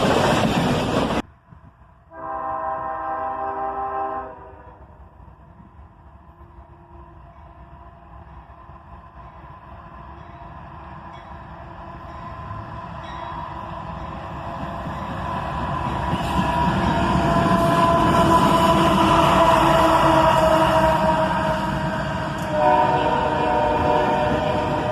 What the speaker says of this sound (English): Here we have a pair of ES40 DCs leading a southbound manifest train.